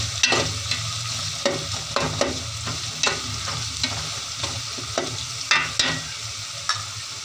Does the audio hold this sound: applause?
no